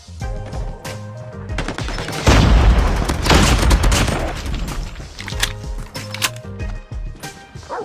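A grenade explosion in the mobile shooter Call of Duty Mobile: a loud, heavy blast bursts out about a third of the way in and rumbles for a couple of seconds. Gunfire rattles around it, and game sounds continue as it fades.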